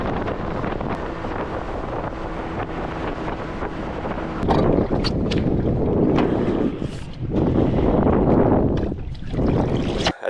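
Strong wind buffets close by with splashing water slapping against a boat hull, the noise surging louder in the second half.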